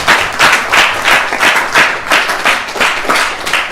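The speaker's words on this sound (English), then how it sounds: "So big round of applause to you all as well." Close, loud clapping from a group at a religious class at a temple, a rhythmic, fairly synchronized series of hand claps pulsing about twice per second, with no talk.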